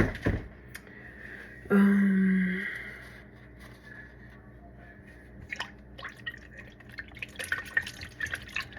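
A short pour of liquid lands in a bowl for sourdough, then quiet wet mixing with faint drips and light clinks follows, soft and close.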